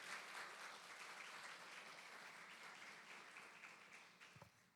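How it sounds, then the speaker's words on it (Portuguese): An audience applauds the speakers at an arbitration symposium in western Bahia, Brazil. The clapping is faint and distant but steady throughout, thinning slightly near the end. "gostaria que vocês dessem uma salva de palmas"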